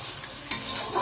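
Spice paste for egg curry sizzles steadily in a hot pan, close up, with a sharp stirring scrape midway through the frying.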